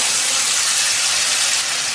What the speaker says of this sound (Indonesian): Kita akan tumis bumbu yang sudah tadi kita haluskan ya.